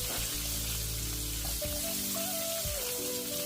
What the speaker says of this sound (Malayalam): ഇനി ഇത് നമുക്ക് നല്ല രീതിയിലൊന്ന് ഗോൾഡൻ ബ്രൗൺ ആവുന്നത് വരെ വഴറ്റിയെടുക്കേണ്ടതുണ്ട്.